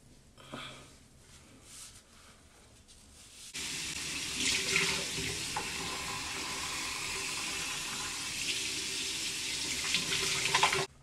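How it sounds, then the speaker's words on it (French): Running water pours steadily while hair is rinsed, starting abruptly after a few seconds of quieter handling and continuing loud and close until the end. "il faut mettre le dirac et rincer"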